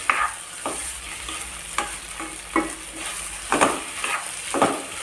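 A spoon stirs sago khichdi around a pan, giving scraping strokes and knocks against the metal over a steady background sizzle, close and moderately loud, with no talking.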